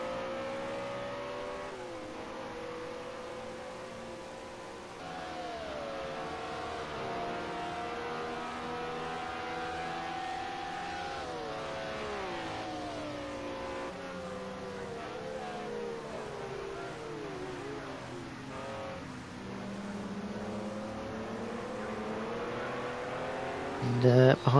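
A BMW M1 Procar race car engine drones steadily on track during an out lap at Road America, its pitch rising and falling through gear changes, heard at a distance.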